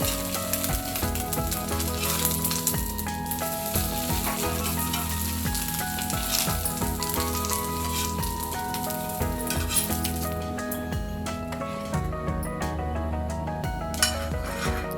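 Neer dosa frying in oil on a pan, giving a steady close sizzle over a constant tonal hum, with light utensil clinks now and then and no talking.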